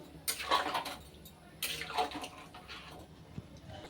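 Water poured into a pot of Bengali curry with taro and prawns, two separate pours, each a rushing splash lasting about a second, close and fairly loud with no talking.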